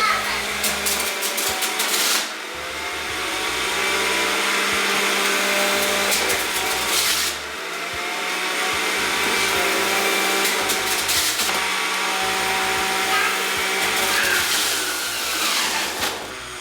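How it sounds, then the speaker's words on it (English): An electric juicer whirs steadily as fresh oranges for Jamaican rum punch are pushed through it, a loud continuous motor drone with brief dips where the load changes. "Turn on my juicer. And get these oranges in there."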